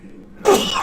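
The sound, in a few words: sneeze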